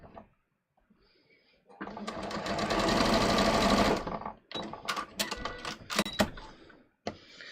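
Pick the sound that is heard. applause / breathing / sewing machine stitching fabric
sewing machine stitching fabric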